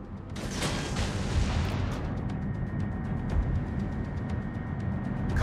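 Naval artillery firing in a warship video game: dense, continuous booming barrages, loud and sustained with no break.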